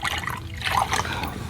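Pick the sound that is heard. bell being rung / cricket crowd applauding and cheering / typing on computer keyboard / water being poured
water being poured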